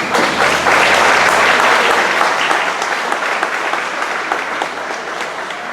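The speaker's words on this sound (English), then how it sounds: "Let's give our students at Shishi another round of applause for all their hard work this week." Sustained applause from an audience at a children's culture day camp event, loud and dense, holding steady for several seconds before easing slightly, with no speech over it.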